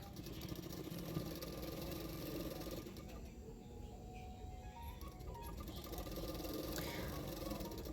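A sewing machine runs a half-inch seam on a double katori collar blouse, a faint, continuous mechanical hum heard under a voice.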